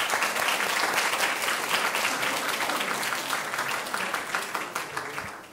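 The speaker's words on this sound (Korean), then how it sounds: "발표 잘했다고 박수 부탁드리겠습니다." Audience applause at the closing ceremony of the SNU–Maeil Business presentation competition, honoring the presenters: dense, steady clapping from a room full of people, sustained for several seconds and tapering slightly at the end.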